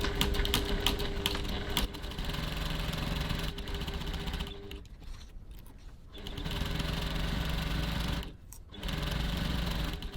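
A sewing machine stitches a bag pocket seam at a 2.4 stitch length, a loud, rapid mechanical whir in long runs broken by two short pauses.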